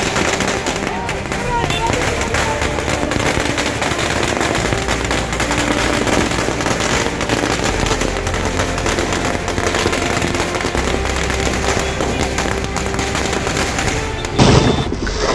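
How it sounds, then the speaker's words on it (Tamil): Firecrackers set off by party supporters at a political celebration in Puducherry, a continuous dense crackle of rapid bursts over a steady crowd din, with a louder pop near the end. "பட்டாசு வெடித்து தங்களின் மகிழ்ச்சியை வெளிப்படுத்தினர்"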